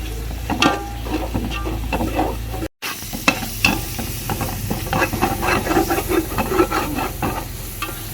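Ginger-garlic paste and yogurt sizzle and hiss in a hot pan while being stirred, a loud, close, steady frying sound with scraping strokes and one brief dropout to silence partway through.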